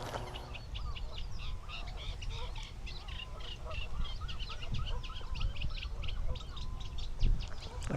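A group of greylag geese honks continuously from a lakeshore, a dense chorus of overlapping calls in steady rhythm at moderate distance, with low wind and handling rumble beneath.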